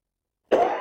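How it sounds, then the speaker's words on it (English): A single sharp cough breaks a brief silence, close and loud, trailing into a short rasp. "I'm sorry I keep coughing."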